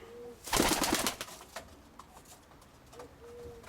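Pigeons coo softly at the start and again near the end, with a burst of rustling and fluttering between the calls.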